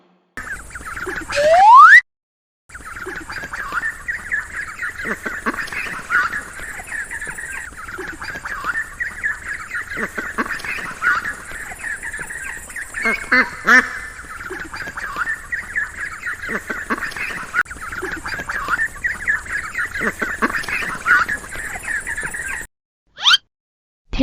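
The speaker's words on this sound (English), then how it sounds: "Duckling." A duckling giving thin, steady peeping quacks, close and fairly soft, repeating rhythmically over a long stretch after a brief sliding tone at the start.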